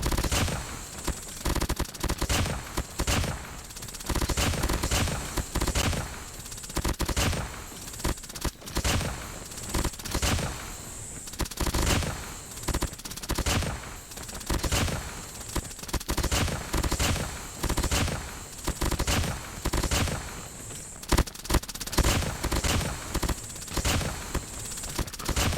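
The USS9 fires in Call of Duty Mobile, with repeated rapid bursts of fast automatic gunfire separated by brief pauses, loud and close throughout.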